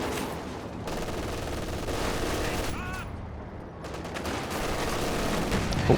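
An MG42 machine gun firing at long range in Company of Heroes 2, a steady crackle of automatic fire mixed with other battle sounds, running throughout at moderate loudness.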